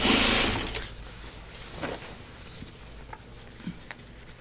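Sewing machine stitching a fabric laundry basket, a quiet, rapid mechanical patter running steadily after a brief louder rustle at the start.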